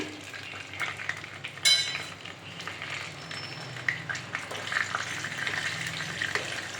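Mixed tempering spices, including mustard seeds, going into hot oil for a Tirupati-style pongal, with a brief sharp crackling burst followed by a low, steady sizzle and light clinks of a spoon, close and without speech.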